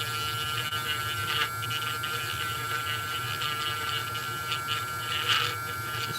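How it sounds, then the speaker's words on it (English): A Dremel rotary tool runs steadily as it is worked carefully around an edge, giving a continuous high whining buzz with slight scratchy variations as it touches the material. "I'll bust out the old Dremel."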